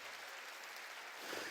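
A church congregation at a Wednesday worship service claps together, a broad even patter of many hands that continues for the short span and grows slightly louder at the end, with no talking over it.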